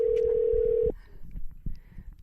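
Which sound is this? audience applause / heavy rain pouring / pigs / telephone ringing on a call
telephone ringing on a call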